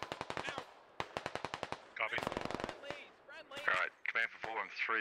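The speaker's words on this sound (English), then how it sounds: "Constant friendly shots here." Rapid bursts of automatic friendly gunfire ring out in the SquadOps tactical shooter game, sharp repeated shots in quick volleys that keep going with short pauses, mixed with other game noise.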